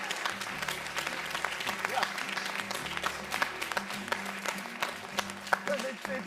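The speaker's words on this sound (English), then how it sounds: "We can clap for ourselves." Applause from a small group, steady clapping with cheering and voices mixed in throughout.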